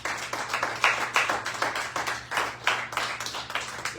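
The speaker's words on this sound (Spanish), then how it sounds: "¿Cuántos le pueden dar un aplauso al Señor?" Church congregation clapping together at a Sunday service in a house of prayer, a dense, steady patter of many hands applauding for several seconds at close range with no talking.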